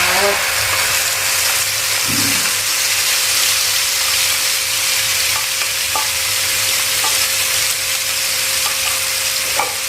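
Squid and blended spice paste stir-fry in a hot pan, a constant loud sizzle and hiss with a few scrapes of stirring near the start.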